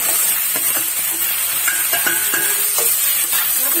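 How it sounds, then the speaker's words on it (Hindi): Noodles for hot and sour paneer noodles go into a hot pan and get mixed, a loud continuous sizzle with a few light clinks and scrapes close by, without speech. "मैं इसको मिक्स करूंगी नीचे ही। अब मैं इधर डालूंगी नूडल्स।"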